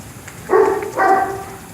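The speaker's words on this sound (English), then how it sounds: "see your dog interacting with other dogs and hopefully to be able to play" Two short bursts of dogs playing together, one a German shepherd, giving brief barking or growling vocalizations close by, separated by a pause, with no talk.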